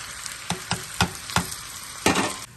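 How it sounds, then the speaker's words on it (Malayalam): Chopped onions and curry leaves fry in hot oil for a ripe mango curry tempering; a brisk sizzle is broken by several quick scraping stirs in close succession. "ഇനി ഈ അരിഞ്ഞ് വെച്ചിരിക്കുന്ന ഉള്ളി കൂടെ അതിനകത്തിട്ട് വഴറ്റാം."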